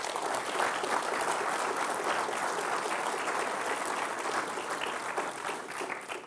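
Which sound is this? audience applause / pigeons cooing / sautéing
audience applause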